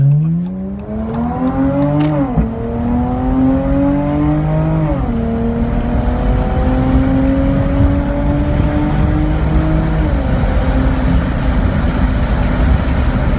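A 2016 Dodge Challenger with its resonator deleted revs and accelerates on a back street, the loud exhaust drone rising in pitch through several gear shifts. It stays close and continuous, and no one talks.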